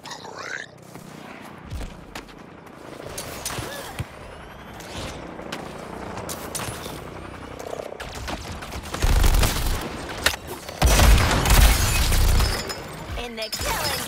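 Gunfire in the Suicide Squad video game, with rapid bursts and scattered shots building to heavy, loud volleys with booms, mixed with game voice lines.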